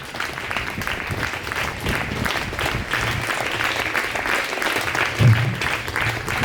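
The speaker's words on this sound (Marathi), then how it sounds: "चला टाळ्या वाजवा जरा. सारख्या टाळ्या चालू ठेवा जरा थोडं 5 मिनिटं." Audience clapping continuously at an Independence Day school event in Tisgaon, a steady rhythmic patter of many hands with faint murmuring voices underneath.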